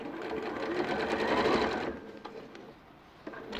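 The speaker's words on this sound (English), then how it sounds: "So I'm just stitching the side seam and the underarm here." A quiet sewing machine stitches the side seam and underarm of a garment, giving a steady close whir for about two seconds before it drops to a soft hum.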